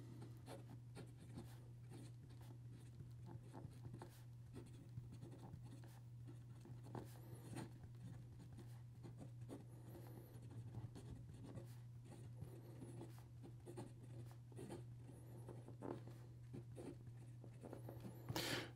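A Simplpens Ventura fountain pen nib scratches across paper in short, uneven strokes, faint and close, with small pauses between words over a steady low hum. No one speaks.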